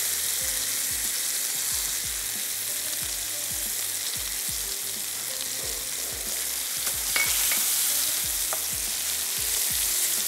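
A creamy sauce with chicken is stirred in a pan, a close, even run of low thumping spoon strokes under a constant frying hiss, with no speech.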